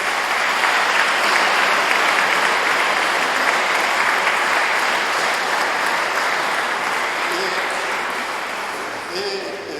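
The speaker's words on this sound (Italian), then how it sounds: "un applauso" An indoor audience at a local history talk about a village bell tower breaks into loud, sustained applause, a thick, even wash of clapping that eases only slightly near the close.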